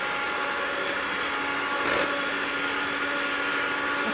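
An electric blender whirs loudly and steadily, its motor drone constant and close, with a brief surge in the middle.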